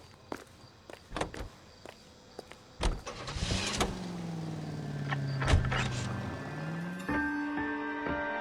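Car in the video game L.A. Noire: footsteps and a door, then an engine starting and a steady engine hum under occasional clicks as the car drives off, moderately loud and close.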